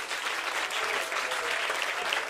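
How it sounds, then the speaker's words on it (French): Church congregation applauding, a continuous even wash of many hands clapping at once, fairly quiet and distant throughout. "Est-ce qu'on peut applaudir le Seigneur?"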